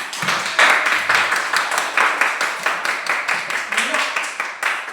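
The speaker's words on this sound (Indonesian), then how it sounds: "Beri tepuk tangan dulu untuk temannya." A classroom of students clapping for a classmate, rhythmic group clapping in a steady unison beat of about three claps per second, close and lively, with a few voices mixed in.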